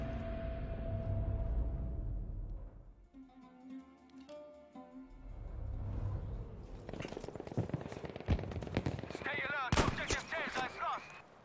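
Sniper-round gunfire in a shooter video game, sharp cracks and clattering shots arriving in the later half after a stretch of game music and a talking voice, moderately loud.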